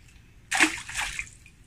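A bintol crab trap is tossed into shallow water while hunting mud crabs, making one close, sharp splash followed by a brief sloshing tail that fades within a second.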